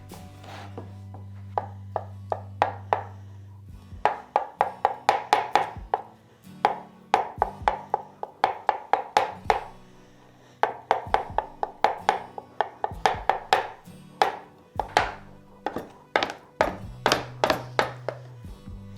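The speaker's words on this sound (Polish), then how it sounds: "Siekać też nie musimy bardzo drobno. Wręcz przeciwnie, fajnie by było, żeby były grubsze kawałki." Knife chopping vegetables into coarse pieces on a cutting board, a steady run of close, crisp thunks in quick bursts with brief pauses between them and no talk.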